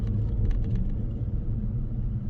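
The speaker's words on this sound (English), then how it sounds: "the loud whirring noise you're hearing is my wheel bearings" Worn wheel bearings on a 2008 Jeep Commander with a 4.7-liter V8 give off a steady, loud low whirring rumble that continues unbroken throughout while the vehicle is driven.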